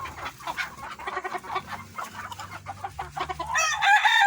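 Free-range laying hens of a native village breed cluck steadily in a colony coop bedded with sawdust, many birds close together, a few roosters among them, with a louder, drawn-out call rising near the end.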